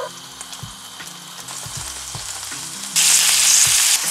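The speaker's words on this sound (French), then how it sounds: "On va attendre que ce soit bien chaud et c'est parti pour la cuisson." Japanese skewers sizzle in hot oil and sauce in a pan, a steady crackling fry that jumps noticeably louder and brighter near the end; no one speaks.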